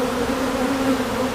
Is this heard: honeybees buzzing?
yes